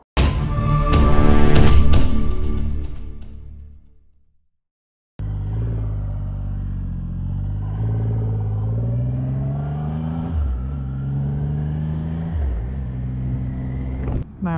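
Triumph Rocket 3 GT motorcycle on an evening ride, its deep engine rumble holding steady after a brief silent gap, with rising and falling tones as the rider accelerates and shifts, loud and close throughout.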